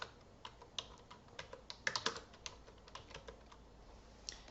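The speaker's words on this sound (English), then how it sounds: "I'm going ahead and type in his name." Quiet, close keystrokes on a computer keyboard as a name is entered, an irregular run of light clicks with a brief quicker burst in the middle, alone with no voices.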